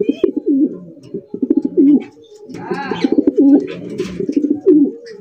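A male grizzle racer pigeon gives close, repeated rough, throaty coos in quick rolling bursts with short pauses between them, loud and clear against a quiet background.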